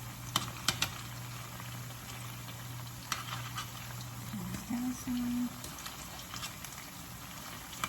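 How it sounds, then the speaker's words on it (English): Tofu sizzles and crackles steadily in a hot pan, with scattered pops and a faint hum, while a voice speaks briefly over it. "Alright, it is frying away, y'all."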